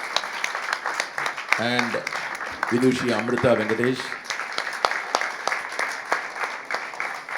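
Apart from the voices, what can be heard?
audience applause after lecture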